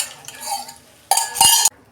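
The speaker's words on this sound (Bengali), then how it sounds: "টক দই দিচ্ছি আমি।" Whisked sour yogurt goes into a pan of egg curry with oil-fried spice paste: a soft stir, then two loud, close bursts of spoon-on-pan scraping and splatter, then quiet.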